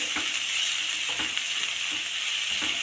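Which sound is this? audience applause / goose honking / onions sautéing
onions sautéing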